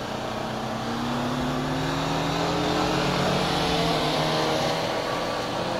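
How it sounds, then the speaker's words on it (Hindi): A car with a Gujarat number plate drives past on a monsoon-season road in Maharashtra, a steady close engine drone that holds loud and continuous with no talking. "सही है, गुजरात का नंबर प्लेट गाड़ी जा रही है।"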